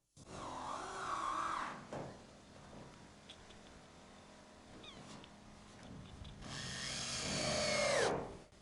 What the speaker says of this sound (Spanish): También intenté cortar con una sierra circular con disco para aluminio, así sí se puede.